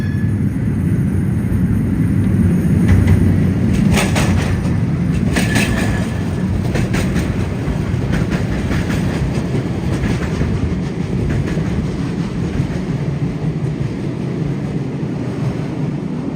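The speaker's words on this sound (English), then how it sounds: "So here comes the metro." A Porto metro train arriving, with a steady loud rumble of wheels on rail and clattering over track joints, heard close by and continuous without talk.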